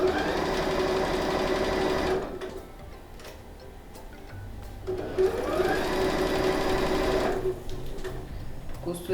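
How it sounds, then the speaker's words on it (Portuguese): A sewing machine runs close by, stitching a seam on fabric in a steady, fast mechanical whir with a ticking pulse, pausing briefly in the middle before starting again at full speed. "Costurei margem de costura"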